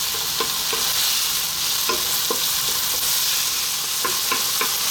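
Red peppers frying in a pan, a constant bright sizzle broken by regular spoon scrapes and taps as they are stirred, close and unaccompanied by talk.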